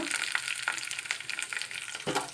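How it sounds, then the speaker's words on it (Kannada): Green chillies and onion sizzle softly in a hot pan, a faint steady crackle of frying with a few light stirring scrapes, close and without talk. "ಮತ್ತು ಇದಕ್ಕೆ ನೋಡಿರಿ ಒಂದು ಈರುಳ್ಳಿಯನ್ನು ಹಾಕ್ಕೊಂಡಿದ್ದೀನಿ. ಅಂದರೆ ಸ್ವಲ್ಪ ಫ್ರೈ ಮಾಡೋಣ."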